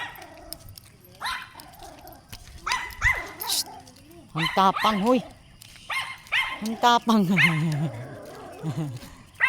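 Dogs bark and yip in bursts at close range, mixed with excited whimpering, while people talk and shush over them.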